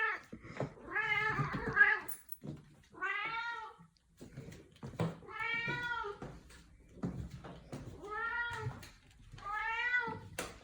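A pet cat meows repeatedly indoors, four or five drawn-out, clearly voiced calls spaced by short pauses, fairly close and loud, with a few faint background noises between them.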